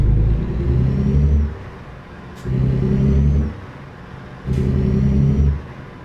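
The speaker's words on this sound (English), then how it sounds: "That was me deliberately block shifting" Simulated Mercedes-Benz MP2 truck engine in Euro Truck Simulator, revved in three loud surges with abrupt drops between them as gears are block shifted, a deep rumbling drone returning about every two seconds.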